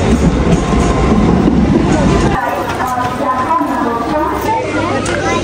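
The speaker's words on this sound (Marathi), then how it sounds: "तिची ट्रेन पण आले" A passenger train pulls into a station with loud rumbling and clattering, its heavy low roar dropping off partway through as the cars slow, while people talk nearby.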